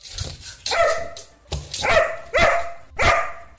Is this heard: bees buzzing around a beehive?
no